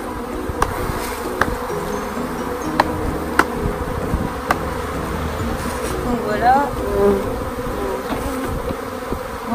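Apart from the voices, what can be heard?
honey bees buzzing around a shaken beehive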